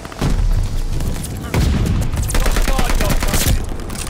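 The Type 100 submachine gun fires in Call of Duty Vanguard, loud rapid automatic bursts rattling almost continuously, with a brief pause around 1.5 seconds, up close amid game noise and speech.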